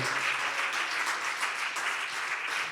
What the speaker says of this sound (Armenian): Թող բարձր ծափարենք մեր Տիրոջը